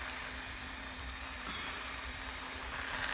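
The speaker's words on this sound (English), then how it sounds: "I got a good steam coming out of there." Steam hisses steadily from a stovetop pressure cooker after its lock has popped up, a continuous close, broadband rush under a faint low hum.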